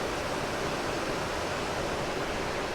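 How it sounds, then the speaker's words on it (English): Freshly boiled water pours into a Mountain House freeze-dried meal pouch as a continuous close, broadband rushing splash, steady and unbroken for the whole stretch with no voices. "And so we're gonna pour 2 cups of water. This is freshly boiled water directly in here."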